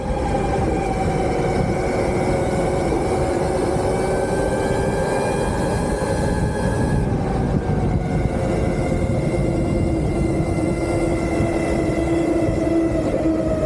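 An RTR Lite Electro electric motorcycle rides in sport mode through Atlanta streets between Midtown and downtown. A steady, loud rush of wind and road noise carries shifting electric motor whine tones that rise and fall throughout, with no talking.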